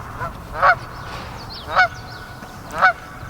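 A large Canada goose honks three times at a steady pace, loud and close, over a low background rumble.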